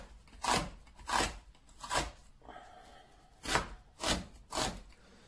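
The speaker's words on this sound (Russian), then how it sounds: "нарезаем лук тоже так же полукольцами" Onions sliced into coarse half-rings with a knife for shashlik, six distinct rhythmic cuts in two groups of three, close and clear with no talk.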